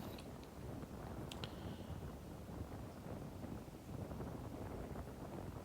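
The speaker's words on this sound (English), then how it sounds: "It was a really strong wind." A strong, warm wind blows across an empty Florida beach in December, producing a steady low rumbling buffet against the microphone, continuous and fairly quiet throughout.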